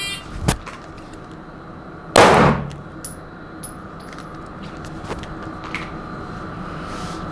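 Single sharp pistol shot at an outdoor live-fire range, one loud crack standing out against quiet background with a few faint distant pops elsewhere.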